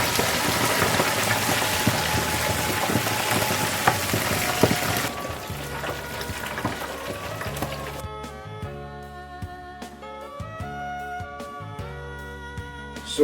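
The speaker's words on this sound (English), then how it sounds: "it's time for us to start frying the meat" Meat frying in a pan on the stove before being parboiled, a steady close sizzle throughout, with tonal music entering partway and running under the frying toward the end.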